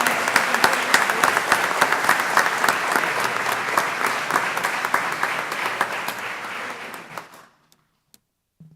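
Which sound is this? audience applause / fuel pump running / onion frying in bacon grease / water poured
audience applause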